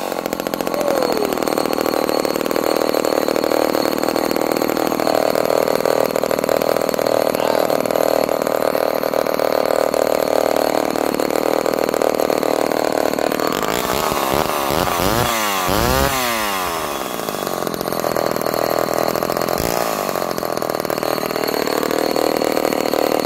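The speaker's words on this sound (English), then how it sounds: "there's an early XL12. I'll fire it up for you real quick" An early Homelite XL12 chainsaw, already warmed up, roars loud and close in a harsh, steady drone, revving up and down several times partway through before settling back to its running note.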